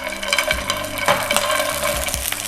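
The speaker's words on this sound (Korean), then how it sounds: "넣고 볶아줍니다." Clams are stir-fried in garlic oil over medium heat, producing a steady sizzle broken by rattling knocks and scrapes as the shells are turned in the pan, no voices.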